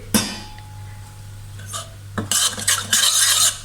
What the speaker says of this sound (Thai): ต้องคนให้แป้งข้าวโพดมันละลายนะ